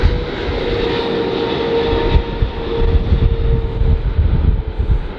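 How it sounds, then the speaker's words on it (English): A Swiss Airlines Boeing 777-300 arriving at LAX from Zurich gives off a loud, sustained jet engine roar with rumbling low turbulence, building slightly as it passes overhead. "That's Swiss Airlines Flight 40 coming in from Zurich."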